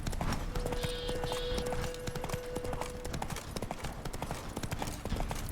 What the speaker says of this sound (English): Tap shift twice, and now we're galloping.